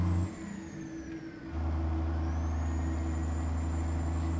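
Dump truck engine from American Truck Simulator, a steady, fairly loud low drone with a brief dip before the throttle opens and the engine revs up and holds.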